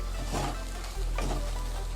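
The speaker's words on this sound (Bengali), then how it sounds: "এইভাবে নাড়তে হবে" Masoor dal filling stirred in a kadai while it cooks, a steady soft sizzle under two scraping strokes of the spoon against the pan's sides, close and alone with no talk.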